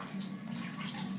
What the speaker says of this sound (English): oh, the tap's just gurgling.